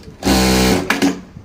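A Jack A5E industrial sewing machine runs a short stitching burst with a loud, steady motor whir, then its thread trimmer fires a quick second burst and clunk before the sound falls quiet.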